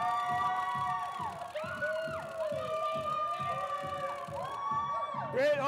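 Dense crowd of people screaming and cheering at an ad campaign photo shoot, loud and sustained throughout with overlapping shrill voices and whoops, swelling near the end.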